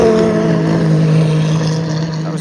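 A race car at the Le Mans 24 Hours roars past trackside at night, its loud engine holding a steady droning pitch close by before easing slightly away toward the end.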